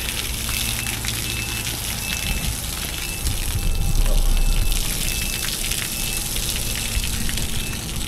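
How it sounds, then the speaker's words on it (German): Water pours in a waterfall-like stream from a sprinkler or irrigation setup, making a continuous rushing splash that swells briefly louder midway, with a faint repeating high tone and machinery hum underneath. "Schöner Wasserfall."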